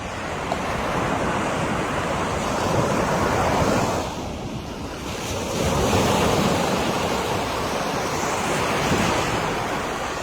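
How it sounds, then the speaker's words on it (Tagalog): Powerful surf at My An Beach in Danang, Vietnam, rolls in as a loud, steady roar of breaking waves, swelling and easing slightly, with heavy wind rumble across the microphone. "Malakas ang alon niya."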